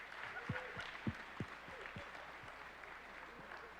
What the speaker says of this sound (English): Please give them a huge Hornet round of applause.